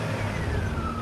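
A racing car speeds past at close range on a public road, a loud steady engine roar with a falling pitch as it goes by, lasting about a second.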